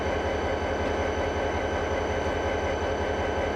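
Diesel locomotive idling in the Trainz 2010 simulator on the Saginaw Subdivision at night, a steady low rumbling drone with a pulsing throb, constant and close with no talk.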